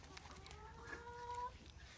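Chickens cluck softly at close range while being fed, small scattered calls over a faint background, with people talking nearby.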